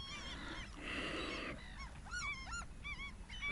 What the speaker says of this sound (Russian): Чайки тоже что-то ругаются